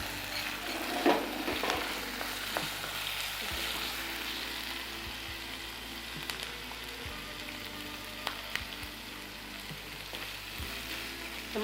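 Onions sautéing with salt in a pan for dragon chicken give a steady, close sizzle, with occasional soft clicks and scrapes of stirring over the continuous frying hiss.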